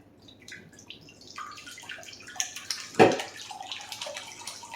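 Liquid cherry jello mixture is poured into a clear container, a faint irregular trickling and splashing with gurgles, building to a brief louder slosh near the end, close and quiet.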